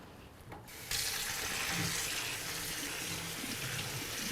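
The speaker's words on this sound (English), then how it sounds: "I'm also going to give them a rinse" Tap water runs over drained canned corn and beans in a strainer, a steady close hiss of rinsing that starts abruptly and continues without a break.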